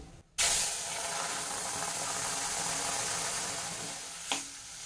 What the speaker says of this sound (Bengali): এবার এর মধ্যে দিয়ে দিচ্ছি আমি এই হালকা ভাপিয়ে রাখা লাউ